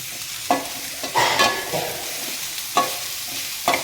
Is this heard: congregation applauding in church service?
no